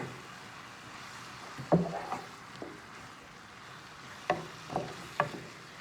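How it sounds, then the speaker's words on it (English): Shrimp and lobster being stirred with a light coating of cornstarch: soft scraping and tapping strokes against the pan, a few distinct knocks spread over several seconds, close and fairly quiet. "with a little bit of cornstarch. I'm going to give them a quick stir."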